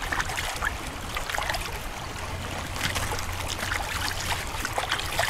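Dirt from a bedrock crevice being washed in a stream while gold prospecting, a continuous trickling and sloshing of water with scattered splashes, steady and moderately quiet, no voices.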